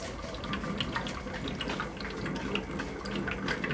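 Continuous water bubbling and gurgling close by as it heats over a hot pipe coil on a wood gas setup, with small drips and pops in a steady wash of sound.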